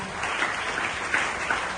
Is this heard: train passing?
no